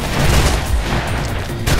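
Heavy gunfire in the first-person parkour game Mirror's Edge, a dense, loud barrage of overlapping shots and thuds throughout, with a brief dip before another burst near the end.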